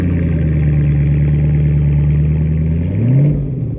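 An all-black Ford GT supercar on multi-spoke wheels revs its engine nearby at a car gathering in Orange County, a loud, continuous low roar that climbs in pitch near the end.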